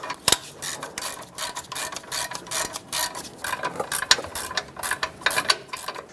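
A ratchet loosens bolts on the suspension of a 1999-2007 Ford F-350 during an air bag spring install, clicking in quick repeated bursts close up, alone.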